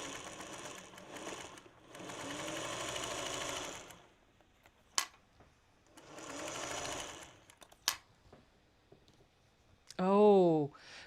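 Sewing machine stitching pieces of a quilt star block, running in three bursts of steady whirring with pauses and sharp clicks between them, followed by a brief rising electronic tone.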